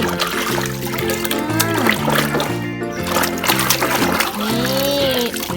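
A paint-stained toy car is swished and rinsed in water, with splashes and trickles over steady background music and brief children's voices.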